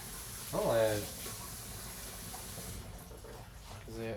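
Running tap water splashes over a metal whisk being rinsed and shaken at a sink, a steady wash of water with a louder burst near the start and brief voiced talk over it.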